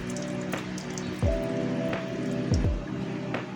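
Water splashes and drips over a printed circuit board being rinsed after dry film photoresist is peeled off, close wet trickling with a few heavier splashes and drops.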